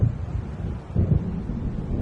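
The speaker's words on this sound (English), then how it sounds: "It seems there's a storm coming." Low rumbling thunder from an approaching storm over waves in the video game Alan Wake, a steady deep roll with gusty swells, continuous and moderately loud with no voices.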